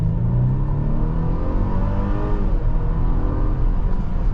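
A 2023 Mercedes-Benz GLC300 Coupe with a 2-liter turbocharged engine accelerates from inside the cabin, a loud, steady engine drone rising gradually in pitch over road rumble.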